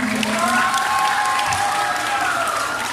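A crowd at a gay beauty pageant applauds steadily, dense clapping mixed with scattered voices and a few rising cheers throughout.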